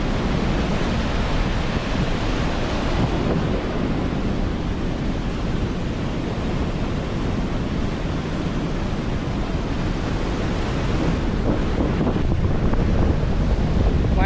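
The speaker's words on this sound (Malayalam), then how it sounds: "ഭയങ്കര കാറ്റാ." Strong wind roars steadily across the microphone at Ezhattumugham nature village, a loud continuous broadband rush with faint surf-like water noise beneath and no talk.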